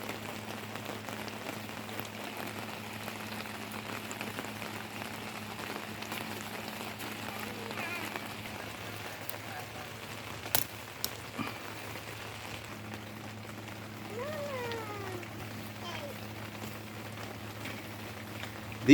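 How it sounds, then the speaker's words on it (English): Steady rain pattering on a greenhouse, a soft continuous hiss with a low hum underneath, a few sharp knocks partway through and faint chirps near the end. "We're getting some much needed rain right now."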